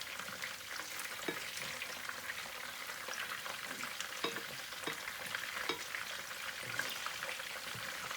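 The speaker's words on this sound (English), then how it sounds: "It's obviously not frying evenly this." Anglo-Indian mince cutlets fry in oil in a pan, a quiet continuous sizzle broken by frequent sharp spits, crackles and the occasional clink of turning them over.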